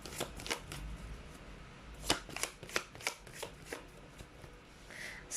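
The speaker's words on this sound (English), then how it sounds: "See, I told you, saw me shuffle." A deck of playing cards is shuffled nearby in a run of crisp riffling bursts and taps, a few sharper clusters midway, with no talk over it.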